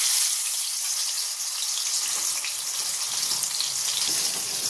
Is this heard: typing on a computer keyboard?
no